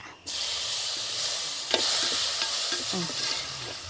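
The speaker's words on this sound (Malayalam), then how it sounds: "ഞാൻ 2 വലിയ തക്കാളിയാണ് അരിഞ്ഞിട്ടുള്ളത്, അത് നമുക്ക് ഇട്ട് കൊടുക്കാം" Chopped tomatoes frying in a hot pan for betel leaf rasam, a steady close sizzle with scraping stirs and light clatter of the spoon against the pan, no voices.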